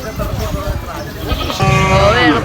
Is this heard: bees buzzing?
no